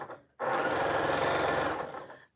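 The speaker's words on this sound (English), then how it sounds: "I need to sew this to there." A sewing machine joins scrap quilt pieces in one short, loud, steady burst of stitching that starts abruptly and winds down after about two seconds.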